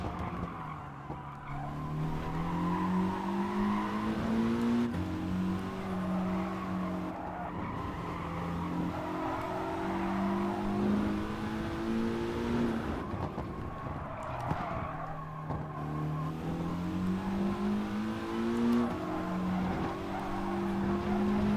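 Race car in Gran Turismo Sport at Sardegna Windmills, an FIA Nations Cup lap: a loud engine repeatedly climbing through the revs and dropping on shifts, with tyre squeal and skidding underneath, no voices.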